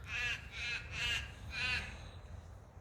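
Crows in a garden on New Year's Day cawing four times in a quick, even series, fairly near and clear, then trailing off into quiet outdoor background.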